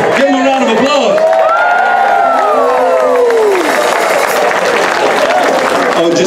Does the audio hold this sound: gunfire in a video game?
no